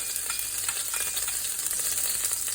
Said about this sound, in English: Over here at the wok, oil's heated up. So we'll go in with our chili